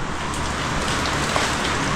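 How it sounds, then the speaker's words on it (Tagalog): A sudden heavy rain pours outdoors, a dense, steady hiss of drops drumming on surfaces close by, loud and continuous with no voices. "Biglang bumuhos ang ulan."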